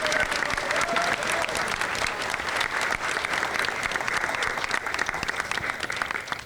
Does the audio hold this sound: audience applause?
yes